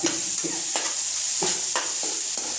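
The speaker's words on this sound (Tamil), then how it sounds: "முருங்கை போட்டு அதை லைட்டாக வதக்க வேண்டியதான்" Drumsticks (moringa pods) lightly sautéed in a pan for sambar, with a constant bright sizzle hiss and about seven evenly spaced stirring scrapes, close and fairly loud, with no voices.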